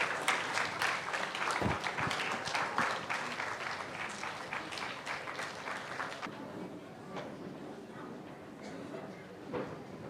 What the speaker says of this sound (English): Please give them a big round of applause as the dignitaries arrive.